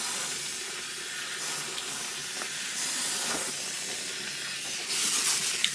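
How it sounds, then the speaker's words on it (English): A steam line hisses steadily during a bridge replacement on a Gibson B-25 acoustic guitar, a close, constant broadband rush with slight fluctuations and a louder surge near the end. "Let me get the steam line going now."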